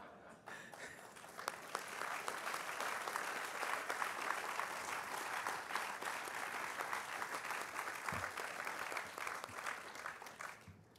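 A crowd applauds at the introduction of new provincial cabinet ministers, a sustained, evenly dense wash of clapping heard from a distance that holds steady for about ten seconds before tapering off.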